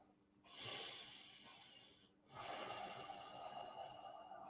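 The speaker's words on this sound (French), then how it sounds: "J'expire." A slow breath out during a guided meditation, soft and close, heard as two long breathy exhalations with a short pause between them.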